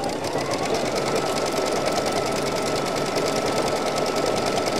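A sewing machine stitches a dish towel with a floral embroidery design, running as a loud, steady, continuous mechanical whir with a fast rhythmic rattle throughout, with no talking.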